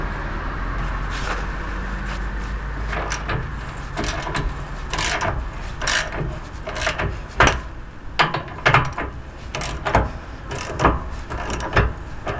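A hand ratchet clicks in repeated short bursts while loosening the leaf spring bolts on a Tracker PG 165WT boat trailer. The clicking is close and fairly loud over a low background hum, with no talking.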